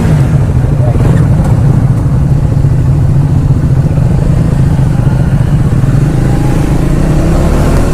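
A group of Triumph motorcycles sets off together on the Distinguished Gentleman's Ride in Agartala, Tripura. Their engines make a loud, steady, close rumble throughout, with a voice talking over the noise.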